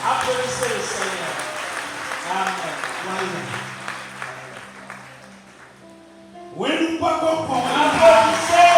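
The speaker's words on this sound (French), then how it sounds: "Applaudissez le Seigneur." Congregation applauding during a child dedication service in a church, steady clapping with singing and speech layered over it, a brief lull, then a louder swell of applause and voices.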